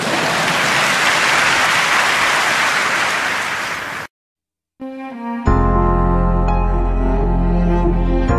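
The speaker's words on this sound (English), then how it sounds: "Now you could applaud for that one." Dense audience applause at a concert, loud and steady for about four seconds before cutting to silence, after which music starts.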